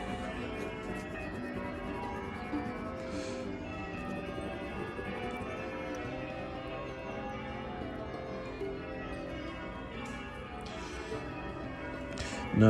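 Church bells near Hillsborough Forest ring in a dense, continuous peal of overlapping tones, steady and fairly faint from a distance, with no talking.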